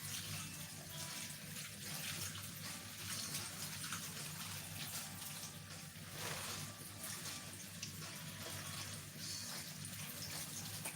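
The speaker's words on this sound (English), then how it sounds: "Run it in cold water." Cold tap water runs steadily into a bowl while spinach is washed, a continuous hissing splash heard close and fairly quiet, with no talking.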